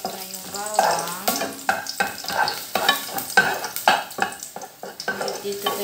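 Garlic sizzles in a hot pan as the base for a misua soup while being stirred, with repeated scraping stir strokes over a steady close frying sizzle.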